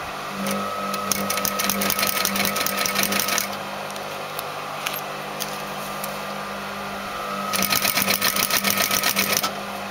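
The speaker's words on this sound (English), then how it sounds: "And I'm stitching in white so you can see what it is that I'm doing." A domestic sewing machine stitches a lapped zip in bursts, a rapid needle rattle running for about three seconds, pausing, then starting again near the end, close and clear with no talk.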